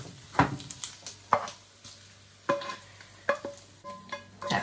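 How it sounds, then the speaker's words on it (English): Pasta for carbonara being stirred in a pan with prosciutto and oil, a series of close, irregular clacking and scraping stirs over a quiet sizzle, with no talking. "I will then add the pancetta with the oil"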